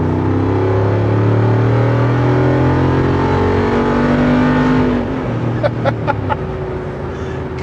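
Jeep Wrangler 392 with V8 engine driving fast, a loud steady engine drone with rising harmonics as it accelerates, then easing off with faint rattles near the end.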